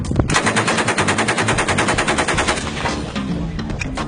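A machine gun is fired from the hip in a long, loud, rapid burst of closely spaced shots that stops near the end, leaving a ringing tail and a few scattered clicks.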